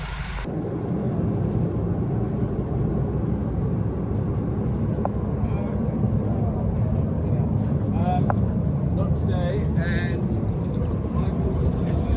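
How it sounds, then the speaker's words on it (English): A sailboat's engine runs roughly with a steady, loud drone throughout, wind buffeting the microphone and a few faint higher chirps and rattles near the end. "The engine sounds a bit rough"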